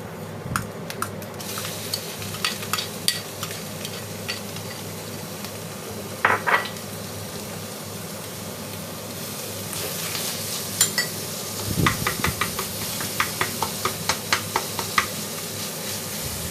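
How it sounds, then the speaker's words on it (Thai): Pork sizzles and crackles steadily in a hot pan for fried rice, with occasional scraping and clinking of a utensil against the pan. "อันนี้นะคะหมูเนี่ย ก็ พอโดนความร้อนเนี่ย มันก็จะแบบมีเสียงดังเลยนะ"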